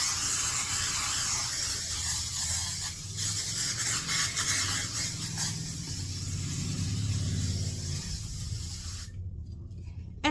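A steady aerosol hairspray hiss sprays continuously for several seconds, close up, then abruptly stops.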